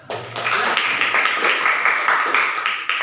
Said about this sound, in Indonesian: Oke, luar biasa, tepuk tangan.